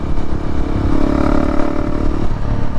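Honda CRF300L motorcycle with an aftermarket exhaust, baffle installed, revving loudly and continuously up close with a deep, rough, rattling engine note and no talking.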